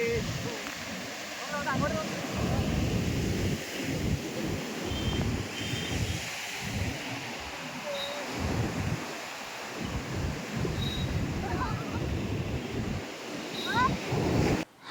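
A swollen, high sea breaks along the shore in a steady roar of surging surf, with gusts of wind buffeting the microphone and faint bird chirps above the rush.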